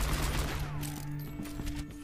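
Dense, rapid gunfire crackles through a hectic Overwatch match, with steady game tones and clutter beneath the overlapping shots, loud and continuous for the whole moment.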